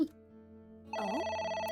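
Telephone rings in the video game AI: The Somnium Files, a steady electronic ringing tone that grows louder and fuller partway through, heard alone with a low background hum.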